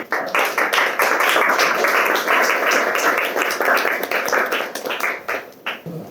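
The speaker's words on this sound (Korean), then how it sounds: "뜨거운 박수로 맞이해주시기 바랍니다" An audience claps steadily to welcome a lecturer, a dense roomful of applause that holds for several seconds and thins out into scattered claps at the end.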